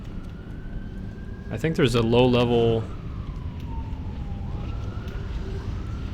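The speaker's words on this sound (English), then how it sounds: "Sorry if you can hear that siren outside." A siren outside wails faintly in the background, a thin sweeping tone rising and falling throughout while someone speaks briefly over it.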